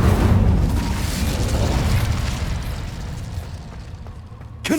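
A fiery Incendio spell cast in Hogwarts Legacy erupts as a loud, dense roaring whoosh that slowly fades over several seconds, with a sharp burst near the end.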